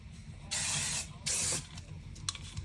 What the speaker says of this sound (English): We need to hairspray this before.